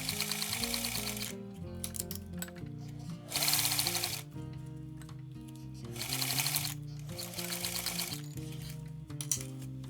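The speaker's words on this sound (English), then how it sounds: "Overlap 1 inch at the ends and sew in letter Z pattern to securely attach the ends." Sewing machine stitching a Z pattern to join the overlapped ends on lined pants, with bursts of rapid mechanical stitching alternating with quieter whirring pauses, close and clear with no voices.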